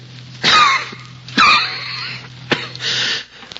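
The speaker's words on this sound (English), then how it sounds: "I cough." A feverish, dizzy person coughs in three separate bursts, each harsh and throaty, with a steady low hum underneath and no talking.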